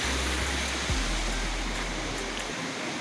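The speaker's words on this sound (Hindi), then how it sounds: "ज़बरदस्त झरना है यहाँ पर और बेहतरीन खूबसूरत झरने पानी बहते हुए" Steady, loud roar of a waterfall with flowing water in Swat valley, Pakistan, a continuous broadband rush with no voices.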